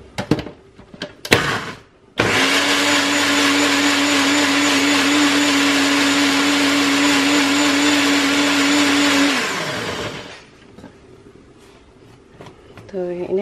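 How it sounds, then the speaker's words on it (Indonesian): An electric blender whirs loudly for about eight seconds, blending boiled chilies and garlic with stock powder into sambal, after a few knocks and before winding down to quiet kitchen sounds. "Ini mau saya blender."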